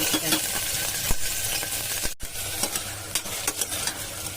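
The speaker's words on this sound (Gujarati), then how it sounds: "વઘારમાં આપણે આદુ નાખીએ છીએ." Ginger and whole spices temper in hot oil for a no-onion, no-garlic khichdi, a dense close sizzle with stirring scrapes and scattered crackles running continuously.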